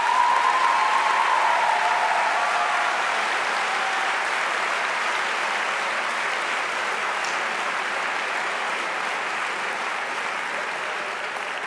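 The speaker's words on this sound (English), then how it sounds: "Let's give them a round of applause." A large lecture-hall audience at the annual Steve Biko lecture gives sustained, dense applause that stays loud and even for the whole stretch, slowly tapering slightly toward the end.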